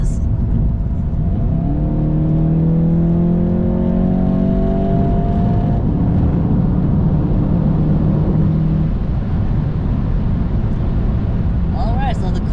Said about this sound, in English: We'll give it a little gas and see how much boost she makes